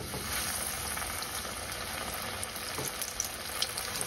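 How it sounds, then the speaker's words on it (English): Freshly caught fish fries in oil at 350 degrees, a dense, even sizzle with scattered small pops, close and moderately quiet, with no talk. "from here we just transfer it to the oil."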